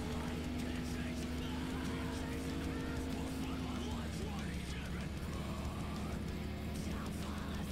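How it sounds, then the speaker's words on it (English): A Chevrolet Impala doing burnouts in Farming Simulator 17, with a steady engine drone and tire roar running continuously, the pitch holding and then dipping slightly midway. "Good burnouts in my Impala."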